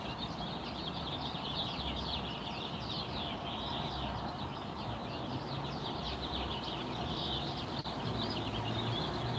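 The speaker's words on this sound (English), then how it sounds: "The birds." A dense chorus of roosting birds calling and chirping fills the air, many twittering at once in a steady, busy wash of sound.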